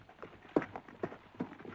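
Horses ride off in an old Western setting, their hooves clip-clopping faintly in a few distinct, evenly spaced beats over a short stretch.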